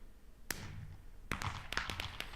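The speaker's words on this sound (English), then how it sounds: "if you guys listen closely there, you could hear the twinkle and sparkle effect" Minecraft firework rocket bursts with a sharp pop, then a second blast follows with a fast, scattered string of crackling twinkle-and-sparkle pops, fairly faint.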